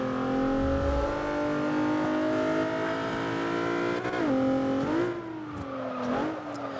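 A 1999 Mitsubishi Lancer Evo VI GSR in Forza 6 accelerates with a strained, rising engine whine, then drops pitch on quick gear changes and climbs again, loud and close with no talking.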